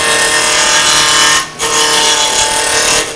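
A wood lathe spinning a workpiece while a gouge cuts it, loud and close, as a steady broadband cutting rush with a brief dip midway.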